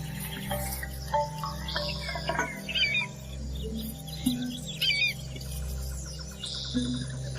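Scattered bird calls and chirps over a steady low ambient rumble, with brief tweets and ticking sounds coming and going, fairly distant.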